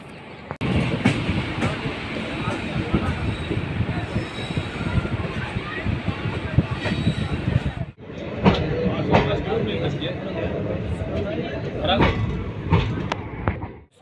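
The Bundelkhand Express, Banaras to Virangana Lakshmibai, halts at a small dark station in the evening, with loud rumbling train and platform noise, a brief break midway and voices talking throughout.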